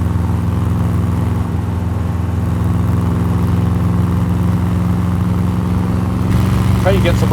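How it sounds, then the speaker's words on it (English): Iso Rivolta car engine pulling hard on an open road while passing a log truck, a loud continuous drone heard from inside the car, with a cheer near the end. "Love that engine sound."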